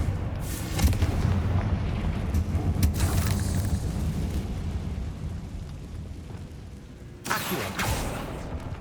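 A Confringo spell blasts in the Hogwarts Legacy video game, heard as a heavy booming rumble that swells and rolls on, with another burst near the end.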